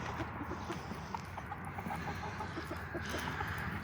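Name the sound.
chickens clucking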